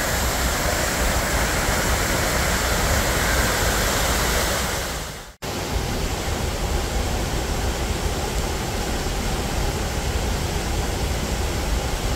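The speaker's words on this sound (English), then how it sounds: "Look back at the waterfall one more time." Waterfall at Camp Creek Falls on a hiking trail, a loud, steady broadband rush of falling water with a brief dropout midway, no voices.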